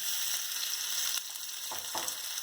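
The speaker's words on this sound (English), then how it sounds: "At this point, we'll now add our shrimp." Shrimp frying in hot oil in a pot for shrimp fried rice, a loud steady crackling sizzle with a couple of brief stirring scrapes near the end.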